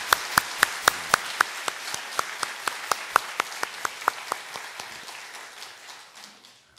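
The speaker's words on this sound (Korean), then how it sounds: "큰 소리와 또 힘찬 박수로 우리 찬양대 격려해 주시기 바랍니다" A church congregation at an Easter service clapping for the choir in steady rhythmic unison, about three claps a second, crisp at first and then gradually fading and loosening toward the end.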